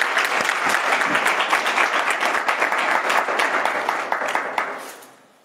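A congregation at a Sunday church service claps steadily in welcome, a dense, even wash of applause that carries on for several seconds before tapering off at the end.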